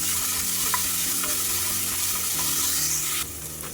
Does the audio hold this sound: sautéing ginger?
yes